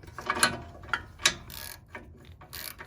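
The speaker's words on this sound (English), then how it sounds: "We're switching to a ratchet with a wobble, just because of the angle that the spindle gusset forces us into." A hand ratchet fitted with a wobble extension works a ball joint stud nut on an offroad upper control arm, tight against a spindle gusset, giving a few quick clicking bursts with short pauses, close and moderately loud, with no talking.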